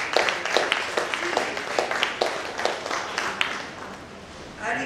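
An audience applauds the department at a government press briefing, a spread of distinct hand claps from a modest group tapering off near the end, where a voice starts.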